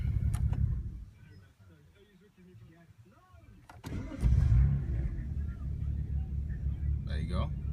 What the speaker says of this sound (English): What we're going to do is try and start the engine again.